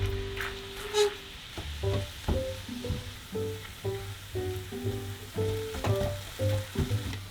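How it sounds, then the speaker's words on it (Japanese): Chicken breast is stir-fried and broken apart in a pan to cook off moisture, producing a soft steady sizzle punctuated by rhythmic scraping and clinking strokes of a utensil against the pan, close-up with no talk. "水分を飛ばして崩しながら炒めます。"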